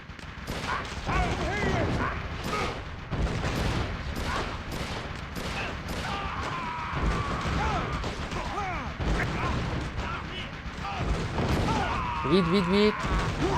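Cannon blasts and rapid gunfire crash in a video game battle, bursts of booming shots and crackling volleys, with a voice talking over the combat and clanking game effects.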